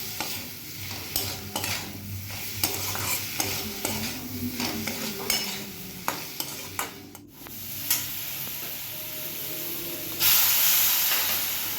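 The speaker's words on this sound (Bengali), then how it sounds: "লঙ্কার গুঁড়ো, ধনে গুঁড়ো দিয়ে ভালো করে নাড়িয়ে ছাড়িয়ে নেবেন।" Chili and coriander powder being stirred in a hot pan for a Bengali sardine curry, with a steady sizzle and repeated scraping strokes of a spoon, close and fairly loud, a brief hiss of steam near the end, no voices.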